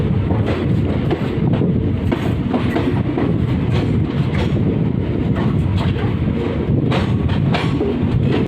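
Mithila Express passenger train running along rails, a steady loud rolling rumble with faint clickety-clack beats and some wind buffeting throughout, no voices.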